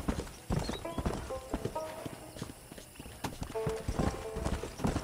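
Horse hooves clip-clop in the Red Dead Redemption video game, a series of crisp, irregular hoof strikes on hard ground mixed with short musical tones and other game sounds, moderately close.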